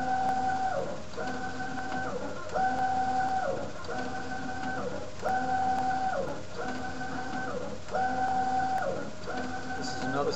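A direct-to-garment printer works on an image, its print head sweeping back and forth in a steady cycle of about eight passes, each a tonal mechanical whir that rises and falls, close and fairly loud.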